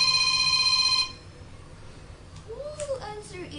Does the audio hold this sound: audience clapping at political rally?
no